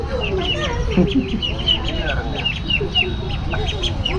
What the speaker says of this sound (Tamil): சேவல் வகை எல்லாமே அந்த சைடில் வந்து டென்ட்டில் எல்லாம் வச்சுருப்பாங்க